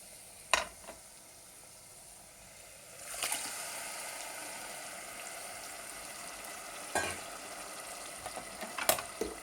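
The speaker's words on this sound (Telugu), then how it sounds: "ఇప్పుడు మాంసం ఇందులో మ్యారినేట్ చేసి పెట్టుకున్నాం కదా, ఈ మాంసాన్ని వేసేస్తున్నానండి." Marinated meat for biryani hits a hot pan, the frying sizzle swelling suddenly and then hissing on steadily, with occasional sharp clatters of stirring and no speech.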